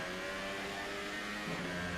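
A McLaren race car in an Xbox racing game, heard from the onboard view at a German circuit, gives a steady, loud engine drone with a slight rise in pitch toward the end.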